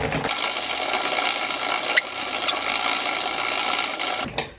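An Addi knitting machine cranked continuously to knit rows, a loud steady mechanical whirring clatter lasting several seconds before stopping abruptly.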